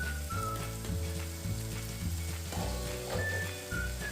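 Mutton curry being stirred in a pan sizzles steadily, a continuous close frying hiss with soft spatula movements and faint tonal background hum throughout.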